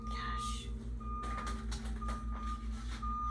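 A truck's reversing alarm beeps steadily in a slow repeating pattern over a low engine rumble, with no talking.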